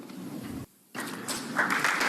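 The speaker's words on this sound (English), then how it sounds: "Why are they clapping for English common law and Magna Carta?" Audience applause during a speech, a dense wash of clapping that breaks off for a moment and then swells back louder and steadier.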